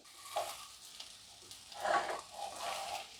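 Mashed boiled potatoes dropped into a pan of frying spices for a crispy, spicy evening snack, giving a few soft sizzling bursts with stirring scrapes that rise and fall in separate pulses, close by, with no voices.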